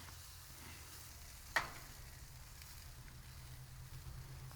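Dry rub chicken wings sizzle on a gas grill with a soft, steady hiss, broken once by a single sharp pop.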